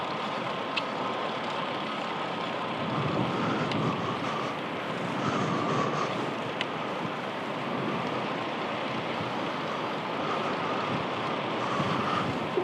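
Strong wind gusting across a sea cliff road on Mallorca while cycling, a loud, constant roar of wind buffeting the microphone with a faint surf-like wash beneath it throughout.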